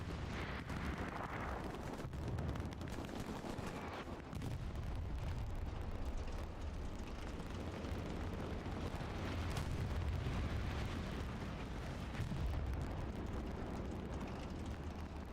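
A dense, continuous rumble of explosions and artillery-like booms during a tank-versus-tank fight in the World War II shooter Hell Let Loose, steady and fairly distant with no talk.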